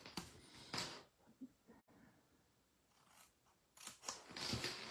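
Scissors snipping through a small scrap of paper for a handmade card, several close, crisp cuts in uneven bursts with quiet pauses between them.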